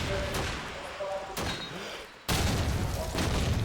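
Grenade explosions in Call of Duty 2 during a LAN tournament final, several sharp blasts and thuds in quick succession, the loudest near the end, with casters talking over the game audio.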